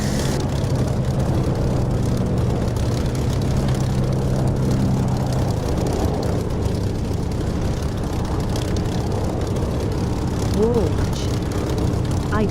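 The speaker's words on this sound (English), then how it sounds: "if ever you fly the spit, it's always worth using the Echo 19 spit sound" Spitfire engine audio from the Echo 19 sound mod in the DCS flight simulator, a steady, loud low propeller drone with a rumbling hum that runs through the whole stretch, with a brief rising whine near the end.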